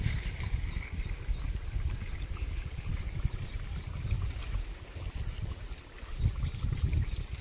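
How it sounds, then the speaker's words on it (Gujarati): Water pours from a bucket into a pesticide sprayer tank on a farm, a continuous splashing gurgle that stays close and fairly even, with occasional swells in loudness and no talking. "અમે પાણી ભરીને આવ્યા છીએ અને પાણી નાખે છે"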